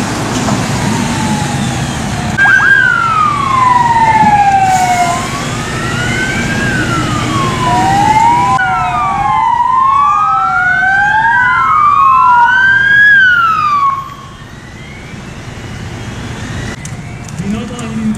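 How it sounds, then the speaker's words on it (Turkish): Municipal fire engine sirens wail during a fire drill in Batman, several overlapping rising and falling tones from arriving ladder trucks, water tenders and a rescue vehicle, loud and close before cutting off sharply, leaving quieter background noise. "Belediye itfaiyesinin 2 merdivenli itfaiye aracı, 3 arazöz, 1 kurtarma aracı olay yerine intikal etmişlerdir."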